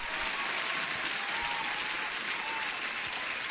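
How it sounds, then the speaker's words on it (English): Dense, even applause fills the whole stretch, a steady wash of many clapping hands with no voices over it. "let's give an applause for everybody"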